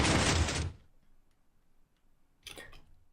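Minecraft redstone waterfall door opening in-game, a loud rushing burst at the start that cuts off quickly, then near silence before a short second mechanical clatter.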